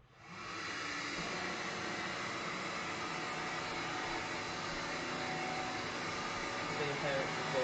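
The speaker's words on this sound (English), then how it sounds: "so I've got the Vax cordless here. We're just going to switch it on and have a look." A Vax Glide cordless floor cleaner switches on and runs with a steady, even whirring drone that holds at one level throughout, close by.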